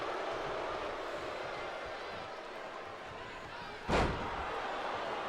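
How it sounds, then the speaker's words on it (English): At WrestleMania IV, a wrestler is lifted and body slammed onto the ring mat, making one sharp, heavy thud over the constant roar of the arena crowd. "Lifts him up and slams him down."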